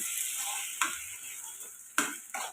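Soft tomatoes cook down in a pan for egg curry, a quiet steady sizzle broken by three sharp scrapes of a spoon stirring against the metal.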